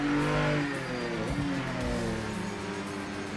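Loud Valkyrie race car engine from Project Motor Racing revving hard, its pitch dropping once at a gear change before pulling again, a close, continuous exhaust roar heard alone.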